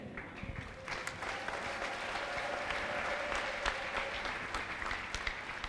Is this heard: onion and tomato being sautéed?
no